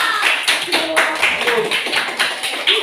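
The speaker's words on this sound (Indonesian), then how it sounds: "Tepuk tangan untuk kelompok" A classroom group claps for a group of students, uneven bursts of hand claps at a moderate pace with occasional faint voices underneath.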